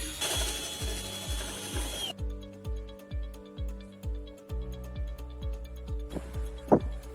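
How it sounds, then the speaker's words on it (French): A power drill bores an elongated hole in a plastic tube, the motor whining briefly before a run of rhythmic, ratcheting bursts of cutting that repeat at a steady pace, fairly close. "Percez un trou allongé sur le côté d'un tube en plastique."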